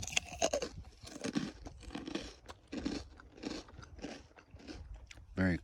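A crunchy ice cream sandwich cookie is bitten and chewed up close on an overnight hike to Cucamonga Peak, giving a series of sharp crunches and wet chewing bursts with a short voice at the very end.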